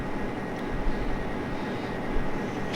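A helicopter roars in an Iron Man video game, a loud, continuous engine and rotor drone that holds steady throughout, close and unbroken, with no speech over it.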